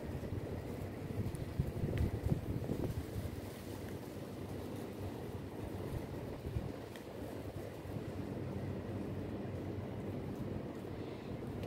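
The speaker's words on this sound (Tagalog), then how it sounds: "Yan, mahangin na naman." Wind blows across a microphone outdoors in a hot provincial area in the Philippines on a morning, making a soft, continuous low rushing rumble with slight gusts and no voices.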